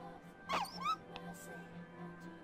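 A dog in the video game Persona 3 Portable gives a couple of short, high whimpering whines over a quiet steady game background.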